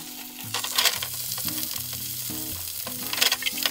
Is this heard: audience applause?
no